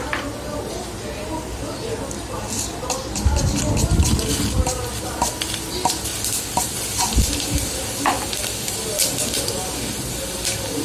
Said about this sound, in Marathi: राई जिरे चांगले तडतडून झाले ना,